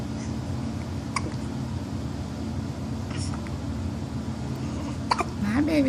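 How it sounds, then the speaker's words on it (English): A baby boy hiccups a few times, in small sharp bursts spaced a couple of seconds apart, heard over the low hum of a car interior. "We have hiccups."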